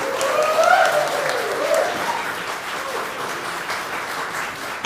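A church congregation claps for the band at the close of a service, a loud, sustained round of applause that eases slightly toward the end, with a faint voice and lingering tones underneath.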